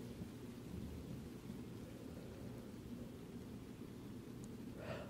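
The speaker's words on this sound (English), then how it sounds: "I think the rain's clearing up." Steady rain with low rolling thunder rumbles on and on at a faint, distant level, and a brief brighter splash comes near the end, with no talking.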